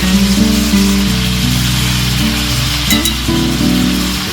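Chicken fries loudly in a steel pan, a close, constant sizzle over a low hum with a faint clink partway through and no talking.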